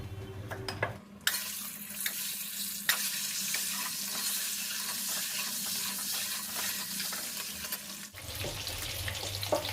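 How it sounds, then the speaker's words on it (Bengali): An egg frying in hot oil sprinkled with turmeric and a little salt, a steady close sizzle with occasional spatula scrapes and clicks, briefly interrupted by a louder pan knock near the start and end. "আপাতত ডিমটা ভাজতে দিই। তেলের ওপরে একটু হলুদ দিলাম আর অল্প একটু নুন।"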